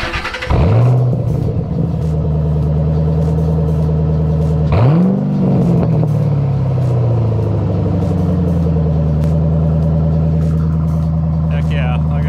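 A 2009 S197 Mustang GT 45th Anniversary V8 fires up with a loud starter crank and roar, settles into a deep rumbling idle, then gets one sharp rev around midway before dropping back to a steady, close, throaty idle.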